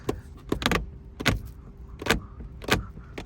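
An electric sunroof motor runs on a Ford Fusion 2.5 SE car in several short whirring bursts with clicks between them, close and fairly quiet, with no talking.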